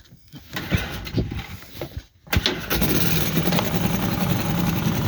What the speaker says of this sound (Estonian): Ja siis tõmbad selle paadi käima.